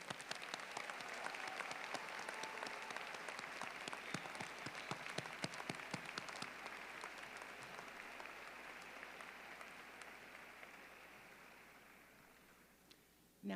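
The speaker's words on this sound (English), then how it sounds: "Let's have a round of applause for the classes of 20" Applause from an audience at a Lesley University commencement ceremony in 2022 forms a dense, sustained clatter of clapping that slowly thins and fades out toward the end.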